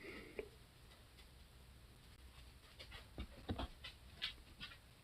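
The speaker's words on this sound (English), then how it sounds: "Fucking dog." A dog pants quietly nearby, soft rapid breaths with a few faint ticks and pats, low in level and without talk.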